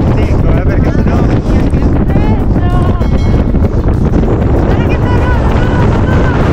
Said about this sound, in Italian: il vento è incessante